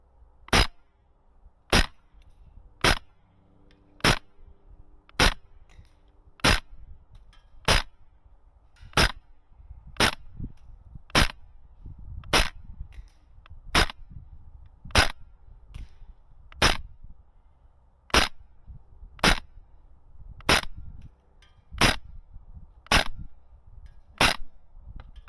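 APFG MPX gas blowback airsoft SMG firing 0.4 gram BBs, about twenty sharp single shots spaced evenly around a second apart, loud and close against a quiet background.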